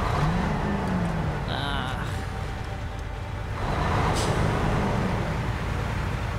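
Heavy truck engine in SnowRunner droning loudly and steadily as it crawls over rough, sloping terrain, with a brief lull midway before the rumble builds again.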